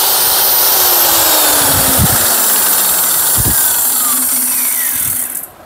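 A DCA core cutter machine runs at full speed with a loud, steady, high-pitched motor whine close by, a few thumps underneath, and winds down at the very end.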